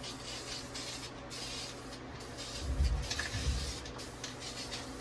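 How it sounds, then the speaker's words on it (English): Aerosol spray hisses onto rusted footwell metal of an old Ford Highboy truck in a few short close bursts over a faint steady background, with no voices. "Just going to give it a quick squirt. Just to cover up this rust here."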